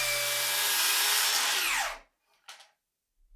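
A circular saw screams loudly up close as it rips a long bevel cut down a wooden board, holding a steady whine before winding down to silence, followed by a brief knock.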